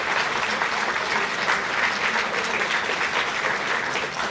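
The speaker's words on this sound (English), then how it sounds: "round of applause for our community partners" Audience applause fills a room at a community charity's annual meeting, a dense, steady wash of clapping hands held at an even level for several seconds with no talk over it.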